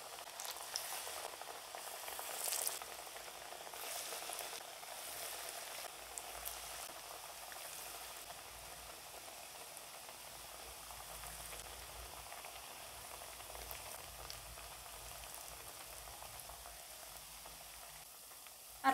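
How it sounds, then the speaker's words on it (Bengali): Lentil fritters (dal bora) crackle steadily in hot oil over a medium flame, a dense continuous sizzle with bubbling, close and moderately loud, with no voices. "এভাবে একটু বড়ার শেপ দিয়ে গরম তেলের ভিতর দিয়ে দেব"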